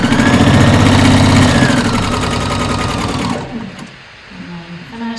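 A sewing machine stitches fabric for a ruffle sleeve top, running loud and steady with a fast rhythmic whir for about three seconds before stopping abruptly, leaving faint room noise and brief quiet sounds.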